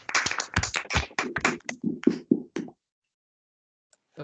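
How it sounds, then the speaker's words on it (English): Clapping from a small audience at the close of a technical talk on static type systems, a quick burst of handclaps that thins out and stops after about two and a half seconds, followed by near silence. "a round of applause, maybe"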